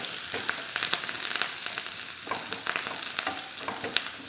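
Dried red chillies and curry leaves frying with shallots in a pan of hot oil for a green mango and bitter gourd curry, a dense close sizzle with light crackles and occasional stirring scrapes, no voices.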